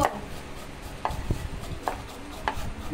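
A knife chops carrots on a cutting board while preparing chicken momos: four sharp, evenly spaced chops at moderate volume, with no voices.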